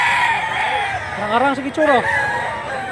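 A gamecock at a cockfighting rooster sale crows once loudly and close, its call rising and breaking in the middle, while someone talks over it.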